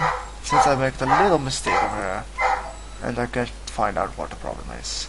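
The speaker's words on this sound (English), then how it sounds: "That's my dog." A house dog barks repeatedly nearby, with quick bursts of yapping woofs that rise and fall while someone talks continuously over the noise.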